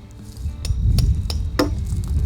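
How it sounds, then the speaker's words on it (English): A metal rod stake is driven into the ground with a hammer while a trap is set outdoors, four sharp ringing strikes spaced roughly a third of a second apart over a low rumbling background. "hammer it in"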